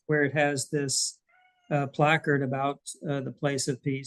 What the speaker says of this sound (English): that's my cat, sorry.